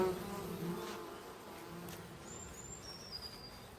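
Honeybees buzz steadily at a hive holding a small swarm, a close, continuous drone with no talking.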